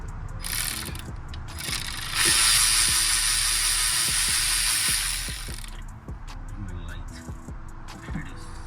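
A ratchet clicks rapidly and steadily while backing out the intake manifold bolts on a 2005 Ford Mustang engine, close and loud, with a louder burst of fast clicking in the middle and a few slower turns at the end.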